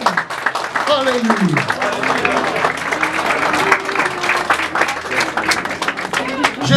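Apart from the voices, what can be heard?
congregation applauding the Lord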